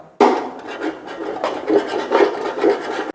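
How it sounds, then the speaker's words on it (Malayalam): A utensil scraping stuck masala off the bottom of a pan, a close, loud rasping scrape in several rough strokes, no voices. "ഇങ്ങനെ പിടിക്കുന്നതൊക്കെ അപ്പം ചുരണ്ടി മാറ്റണം കേട്ടോ."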